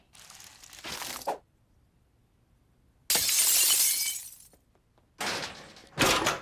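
Glass shatters and breaks in an animated cartoon scene, arriving in three separate crashing bursts with quiet gaps between them and a long bright smash in the middle, loud and close.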